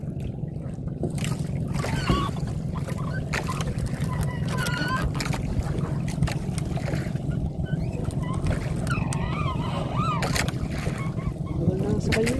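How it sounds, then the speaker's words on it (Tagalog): A large tourist boat bound for Fortune Island runs across open water, its low engine rumble steady and continuous, while honking calls and voices break in now and then. "May malaking bangka."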